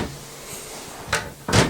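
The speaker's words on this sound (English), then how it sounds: "We'll close the drawer and see what happens." A drawer fitted with a magnetic baby-proof cabinet lock shuts with two quick knocks, a light tap followed by a louder, firmer thud, close up with no talking.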